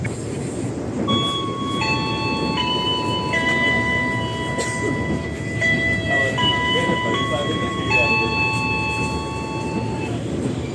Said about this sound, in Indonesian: selamat datang di Kereta Api Majapahit yang akan mengantarkan kita ke tujuan akhir stasiun Malang